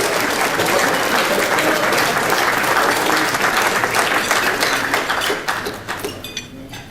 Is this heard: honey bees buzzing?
no